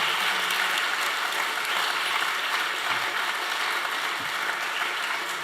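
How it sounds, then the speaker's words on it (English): Steady audience applause at a panel discussion on decriminalising abortion, a dense, even wash of many hands clapping that holds at full strength through the whole stretch with no voices on top. "I'd love a final round of applause for our panel,"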